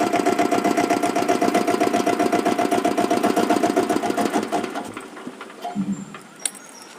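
A diesel Royal Enfield Bullet motorcycle engine idles with a rapid, regular chugging, then shuts off near the end and leaves a few faint clicks and quiet background.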